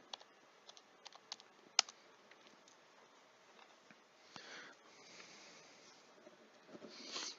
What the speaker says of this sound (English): we're gonna type in the password real quick